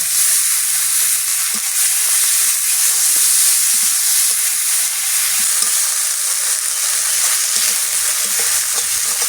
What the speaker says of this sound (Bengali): কালো জিরে, লঙ্কা ফোটন, তেজপাতা, পেঁয়াজ, রসুন, আদা সব দেবো একে।